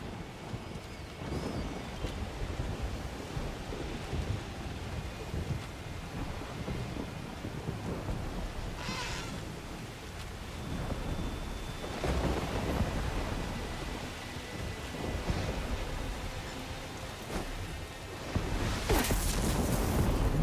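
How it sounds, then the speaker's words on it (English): Thunderstorm in the video game Horizon: Burning Shores: continuous rain and wind with deep rolling thunder building in bursts, a louder crack near the end, no voices. "We are getting very close to the thunderstorm."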